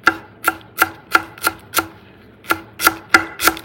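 Knife chopping fresh dill on a board, ten sharp evenly spaced cuts in two bursts with a brief pause between, close and clear with no talking.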